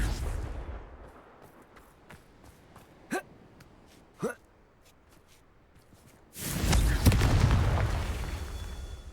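A Confringo blasting spell explodes in Hogwarts Legacy, a sudden loud, sustained blast that follows a few quiet, sharp pops and whooshes in an otherwise hushed space.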